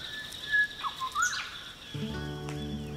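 Parrots calling in a tropical rainforest, with a few sharp chirps and whistles early on, followed by a steady tonal drone and faint patter from the surrounding forest.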